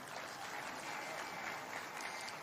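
A crowd claps steadily and fairly loudly at a political rally in West Pokot, Kenya, attended by President Ruto; the applause is dense and continuous throughout.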